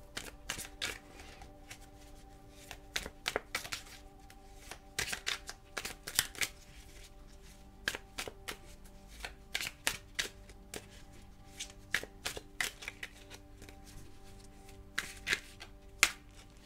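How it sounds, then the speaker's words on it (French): Tarot cards being shuffled and drawn by hand during a whispered love reading, soft irregular riffles, taps and flicks of card stock sounding close and quiet over a faint steady background hum. "Allez, je vais tirer une carte qui, j'espère, va vous aider."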